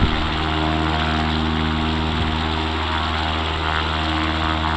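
An XCub light aircraft cruises over Carmel Valley, its propeller engine giving a loud, steady, unbroken drone heard from inside the cabin.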